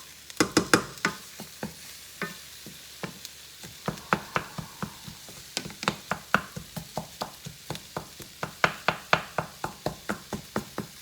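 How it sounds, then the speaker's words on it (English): Shrimp étouffée base in a hot pan as the fond is stirred and scraped off the bottom: a rapid run of sharp, rhythmic scraping strokes over a light sizzle, close and loud, with no talking. "Get this fond up off of this pan."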